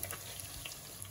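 Paneer fries in a pan with a brief, steady sizzling hiss, close and even throughout.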